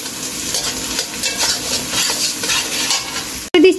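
Onions fry in oil with a spoonful of garlic paste, making a steady, loud sizzle with stirring scrapes and a sharp clank of utensil on pan near the end.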